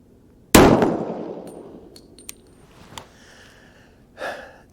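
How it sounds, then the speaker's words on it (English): A single 124-grain 38 Super round is fired over a chronograph outdoors, a sudden loud crack with a long fading echo, followed by a few faint clicks and a soft breathy rustle. "We're going to put 6 rounds over the chronograph, and we're going to see how fast the 124 grain 38 Super ammo is running."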